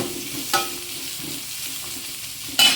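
Onions fry with dried chillies in hot oil, a constant close sizzle punctuated by two sharp stirring scrapes near the start and end.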